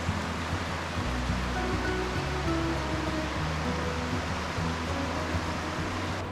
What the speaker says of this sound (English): So this stream is predominantly a cold water freestone.